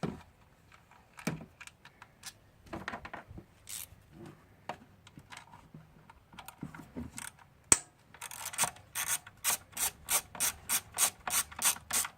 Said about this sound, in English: So you'll be removing all 4 bolts.